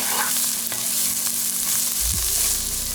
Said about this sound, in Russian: Теперь добавляем морковь. Морковь буквально 1 минутку прижариваем слегка.